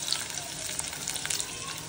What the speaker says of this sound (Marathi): छान असा भाजून घ्यायचा कांदा आपल्याला यामध्ये